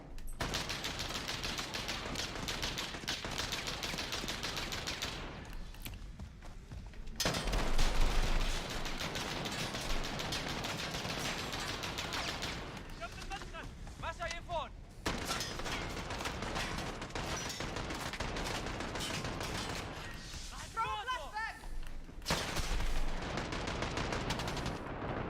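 Sustained machine gun fire and other gunfire from Call of Duty: Modern Warfare (2019), loud and dense through most of the stretch, with brief lulls between long bursts.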